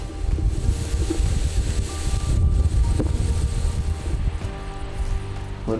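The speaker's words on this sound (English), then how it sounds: "It's actually still pretty windy." Wind blows hard and steadily, a low rumbling roar buffeting the microphone, with faint rustling and water-like wash in the background.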